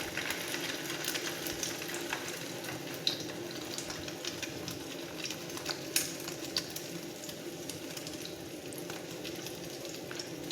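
Bread dipped in beaten egg frying in a little too much oil in a pan, a steady close sizzle and crackle with small pops and occasional spatters running the whole time, no voices over it.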